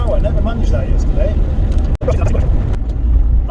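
Steady engine and road drone from a car cruising at 50 mph with a CVT gearbox, continuous and fairly loud, with a person talking over it.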